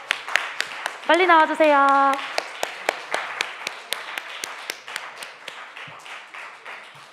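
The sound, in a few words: audience clapping to welcome a group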